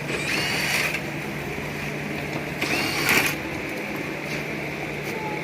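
Ratchet loosening headlight bolts on a Ford Explorer ST during an intercooler install, heard as two short bursts of quick mechanical clicking over a steady low hum.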